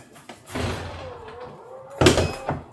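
A Tesla Model 3 or Model Y door, fitted with a power-closing accessory, swings shut with a soft mechanical whir, then latches with a solid thump near the end.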